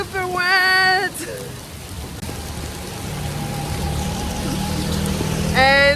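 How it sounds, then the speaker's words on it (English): Steady monsoon rain in Weligama, Sri Lanka, hisses across the whole clip, with faint tonal sounds drifting in over the downpour. "It's raining, man."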